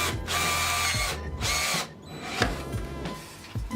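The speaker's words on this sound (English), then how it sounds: "I'm going to go ahead and drill them out." Power drill boring out rivets on the plastic front fender of a 2000 Kawasaki Ninja EX250, loud close whine in long bursts with brief pauses and a gritty grind between runs.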